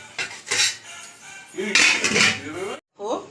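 Metal lid set down on a pot of basmati rice pulao with a clink and rattle of cookware, a couple of close, sharp metallic knocks in quiet kitchen surroundings.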